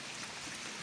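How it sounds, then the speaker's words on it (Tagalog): Heavy rain falls during a typhoon in Sorsogon as a brief, soft, steady hiss of downpour with no other distinct sounds. "Malakas na rin po ang ulan."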